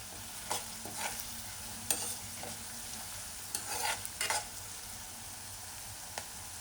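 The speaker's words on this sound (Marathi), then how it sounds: "कांदा थोडासा आपला मऊ झालेला आहे, अजून थोडासा आपल्याला परतला पाहिजे" Onion sizzles softly in a pan while being sautéed for a snake gourd and dried fish dish, broken by several bursts of spatula scraping and clinks in an irregular rhythm.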